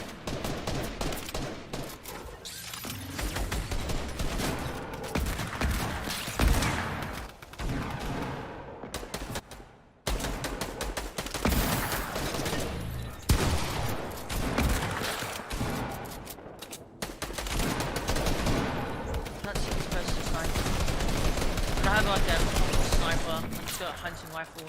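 Hunting rifle gunfire in the video game Fortnite, a dense barrage of loud, sharp shots and rapid bursts running almost continuously over about twenty-five seconds, with brief gaps.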